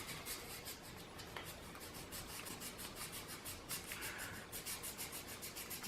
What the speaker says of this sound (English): I'm just going to take some 220 grit sandpaper, and I am just going to lightly sand this down